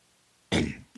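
A single abrupt, close throat clearing from a person with a lingering weeks-long cough, one rough harsh burst that fades quickly after brief quiet.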